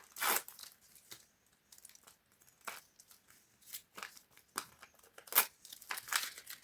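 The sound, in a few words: opening paper packets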